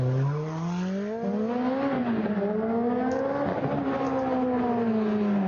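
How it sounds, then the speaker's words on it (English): A loud Group B Peugeot 205 T16 rally car engine screams at high revs at Goodwood SpeedWeek, pitch climbing and dipping as it accelerates and shifts, continuous and close throughout. "205 T16, another car, of course, that evolved into a very good rallycross car"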